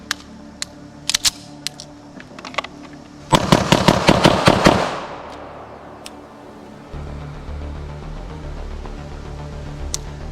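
A Nighthawk BDS9 pistol fed from a 26-round Prodigy big stick magazine fires a quick string of sharp shots after a few scattered single reports, followed by quieter handling noise.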